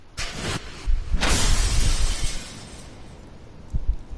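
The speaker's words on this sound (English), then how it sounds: "smashes through the window and off into the night." A glass window shatters in the Death Mark video game as a figure smashes through it, a loud close crash followed by a longer wash of breaking, scattering glass that fades into quiet.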